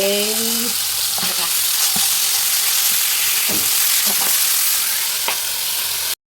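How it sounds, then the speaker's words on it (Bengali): Pabda fish frying in oil in a pan, a loud continuous sizzle with occasional sharper crackles and stirring sounds, heard alone without talk. "তো এই দেখো অনেক কষ্টে ভেজে নিচ্ছি, তুলে নিচ্ছি মাছটা"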